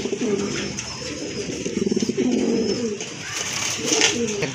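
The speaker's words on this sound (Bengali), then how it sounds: "দেখেন খুবই সুন্দর অ্যাক্টিভ কবুতর" Pigeons at a market stall coo in soft, rhythmic bursts, close by and clear, with a faint voice briefly in the background.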